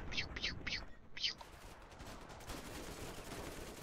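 Rapid bursts of gunfire in the video game Ravenfield, four short crackling volleys close together at the start, then a busy, noisy game background continues with no further distinct shots.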